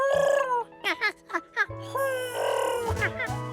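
A voice imitates a pigeon with a string of short, warbling cooing hoots, rising and falling, fairly close and clear.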